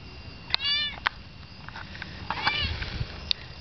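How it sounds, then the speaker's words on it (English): A cat meows twice, close by: a short rising call near the start and another a couple of seconds later, with faint background noise and small knocks in between. "here's another cat."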